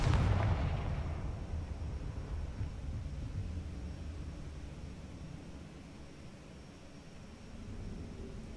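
A Confringo blasting spell goes off in Hogwarts Legacy: one heavy boom at the start, then a long, deep rumbling decay that slowly fades, with no voices over it.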